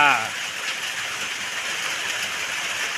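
Steady rain hisses down over a frog pen beside a fish pond, a broad, even wash of sound after a brief voice at the very start.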